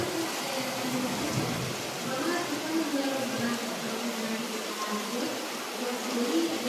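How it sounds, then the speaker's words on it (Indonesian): Steady rain hisses throughout as a continuous wash of noise, moderately loud, underneath a man giving an Islamic religious lecture who talks over it the whole time. "suaranya berbias dengan air hujan"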